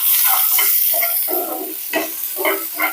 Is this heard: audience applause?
no